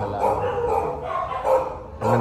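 Dogs barking and yapping close by in short bursts, with voices mixed in between the barks.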